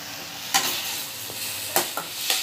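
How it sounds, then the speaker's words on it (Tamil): Garlic cloves and a small piece of ginger sautéing in a pan for masala puri, a steady close sizzle broken by a few short scraping stirs. "இதை நம்ம நல்லா வதக்கிக்கணும்."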